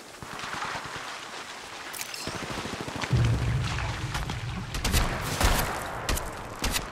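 Gunfire in the Apex Legends battle royale game, with a rapid run of close shots and booming impacts over a busy, continuous game soundscape, a few louder cracks standing out near the end.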